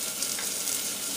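Salt pork browning in bacon grease in a pan, giving a steady, close, even sizzle with broadband crackle and no voices over the short stretch.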